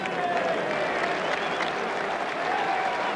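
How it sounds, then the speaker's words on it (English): A boxing crowd at a 1991 bout applauding, dense sustained clapping and cheering that fills the whole stretch, loud and steady, with crowd voices mixed in. "Great appreciation from the crowd."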